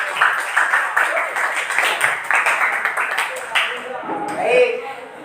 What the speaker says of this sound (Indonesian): Jadi tepuk tangan dulu untuk Danova